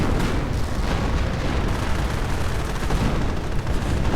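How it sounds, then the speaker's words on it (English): Artillery barrage in a World War II real-time strategy game, a dense, continuous roar of overlapping booms and blasts at loud volume, with no talk. "God of War artillery barrage"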